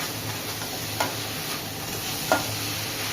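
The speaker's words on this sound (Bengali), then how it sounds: "এবার আমি ভেন্ডি আলুটা দিয়ে ঢেকে ঢেকে আমি ফ্রাই করবো।" Okra and potatoes frying under a lid in a pan for a dry Bengali-style alu bhindi, a low steady sizzle close by with two light clicks of the lid or spoon, and no voices.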